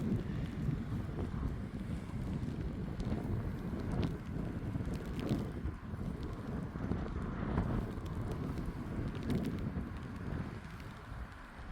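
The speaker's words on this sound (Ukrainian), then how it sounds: "Дуже сильний вітер і дощ." Strong wind roars steadily and buffets the microphone, a constant dense rushing noise that never lets up, with rain; no one speaks. Recorded in Fanal forest park, Madeira.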